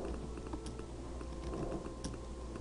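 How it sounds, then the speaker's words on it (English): Keystrokes on a computer keyboard as a player types a name during a You Don't Know Jack game, with faint, quick clicks against a steady background hiss. "I need you to type in your name now."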